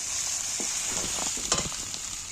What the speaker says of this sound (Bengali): এই তেলের মধ্যে আমি একটু রসুনটা ভেজে নিচ্ছি